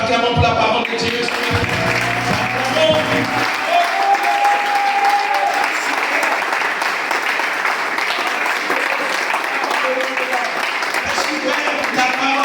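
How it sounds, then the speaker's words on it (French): A church congregation bursts into sustained, loud, dense applause that fills the room for the whole stretch, with voices mixed in and no let-up. "Nous acclamons pour la parole de Dieu."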